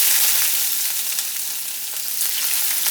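Chopped onion hits hot oil already frying with minced garlic and ginger, giving a steady, loud, close sizzle that crackles on without a break and with no voices.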